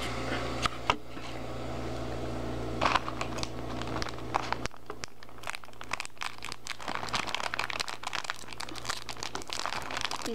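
Crinkling and crunching of a Majomajo Nerunerune candy packet being opened, with scattered sharp plastic crackles and tearing bursts over a steady low hum, close and moderately loud, no talking.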